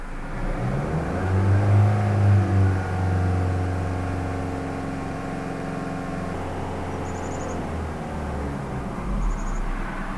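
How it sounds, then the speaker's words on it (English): Engine of a 2014–2015 Honda Civic with a CVT revving up to about 3000 rpm and holding there, a loud rising whir that settles into a steady drone, heard alone. "I'm just going to rev it to 3000 for a couple minutes."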